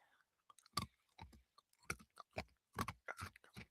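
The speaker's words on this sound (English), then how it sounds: "Sorry for the crunching sound." Crunchy food chewed close to the mic: sharp, irregular crunches in quick bursts with brief pauses between, fairly quiet overall and with no talking.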